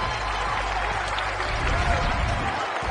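Crowd noise fills a basketball arena at Freedom Hall during the second half of a Bellarmine versus Stetson college game, a steady, dense roar of cheering and applause heard throughout, with a commentator speaking over it.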